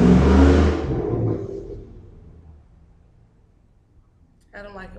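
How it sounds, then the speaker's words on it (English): A loud car engine revs hard up close, then fades away as the car moves off, leaving near quiet before a brief voice comes in at the end. "I don't like it when cars are unnecessarily loud."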